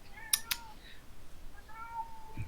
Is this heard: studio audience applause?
no